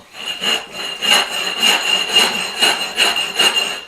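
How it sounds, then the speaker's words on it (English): Abrasive rubbing to grind a sharp edge smooth where new concrete meets old on a floor being readied for VCT tile, heard as repeated close, gritty back-and-forth strokes in a steady rhythm, about seven passes, with no talk. "just a slight little rub, and it just grinds that sharp edge right off"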